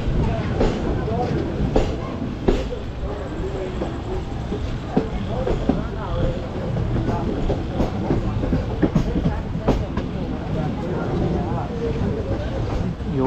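The Sapthagiri Express train from Tirupati to Chennai rumbling along the tracks with rhythmic clicks and clacks over a constant low roar, with voices talking faintly in the background.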